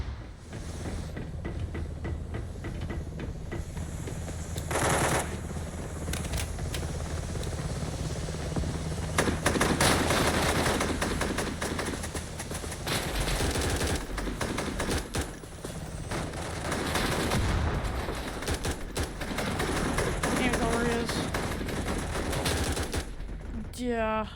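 Rapid M16A2-clone rifle fire in the shooter game BRM5, sustained bursts of shots with repeated volleys across the stretch, loud and dense, mixed with game ambience and distant gunfire.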